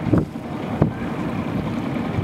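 A motor boat's engine drones steadily on an evening sea trial past San Pedro Hill, mixed with wind rushing against the microphone and a couple of brief louder gusts.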